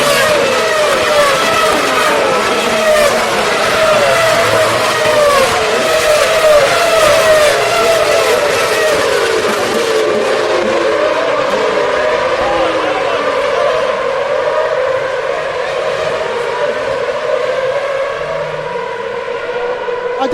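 Race cars at the 2012 Belgian Grand Prix scream past at racing speed, one after another, their high engine whines dropping in pitch as each goes by, loud and continuous, then fading toward the end.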